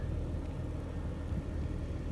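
A bee truck and a tractor rumble steadily at a Canadian bee yard, a low continuous engine drone with a faint whir, fairly distant and even, with no talking over it.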